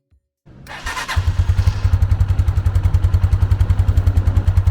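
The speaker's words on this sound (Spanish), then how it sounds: "para que ustedes logren escuchar con más claridad el sonido del tubo de escape" An Italika 150Z motorcycle, brand new, cranks with a brief starter whir before its engine catches and settles into a steady, close idle with even, rapid exhaust pulses.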